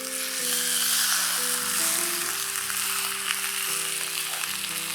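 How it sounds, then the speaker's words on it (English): Steady, dense sizzling of chicken frying skin side down in a pan, loud and close, with a low hum and shifting tones running underneath throughout. "We are frying this chicken skin side down first."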